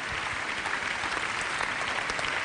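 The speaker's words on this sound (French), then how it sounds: "on vous applaudit tous les deux" Sustained applause at a national awards ceremony as a trophy is presented, a thick, even patter of many hands at moderate loudness with no voices over it.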